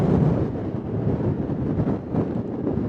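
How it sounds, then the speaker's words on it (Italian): Strong wind buffeting a microphone at a tent camp among snowy dunes in the Lagorai mountains of the Dolomites, a continuous low rumbling roar with surging gusts, close and loud. "tira un vento veramente poco simpatico"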